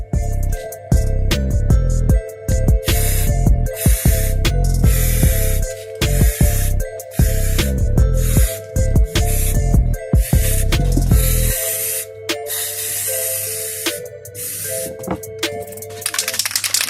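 Primer sprayed from an aerosol can onto a car part in repeated bursts of hissing spray, with a steady background of music throughout.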